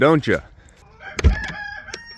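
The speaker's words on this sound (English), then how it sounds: "I can already hear the roosters crowing out in the barn." A rooster crows in a barn on a snowy winter morning, one short crow heard at moderate distance with other faint fowl sounds behind, and a person speaks briefly near the start.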